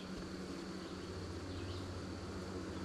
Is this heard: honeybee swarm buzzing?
yes